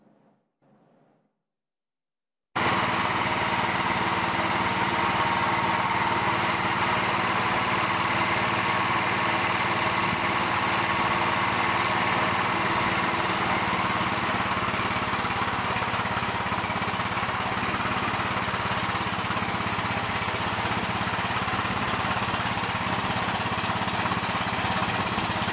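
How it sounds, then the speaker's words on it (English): Sawmills running near the border give a steady, dense mechanical drone with a constant engine-like hum and broadband roar, starting abruptly after a short quiet lead-in and holding unchanged to the end. "Those are sawmills, right? And this is what they sound like, day in, day out."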